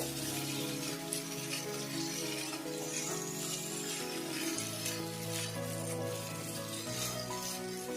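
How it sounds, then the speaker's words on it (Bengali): Figs sauté with spices in a hot pan while cooking fig prawns, a steady, fairly faint sizzle that runs continuously throughout, with soft stirring noises under it. "ডুমুরটা আমি মশলার সঙ্গে 2 মিনিট ভালোভাবে কষিয়ে নিলাম।"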